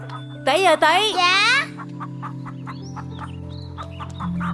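A chicken lets out a loud, close burst of squawking clucks at the start, then small chirps and peeps continue faintly over a steady low hum.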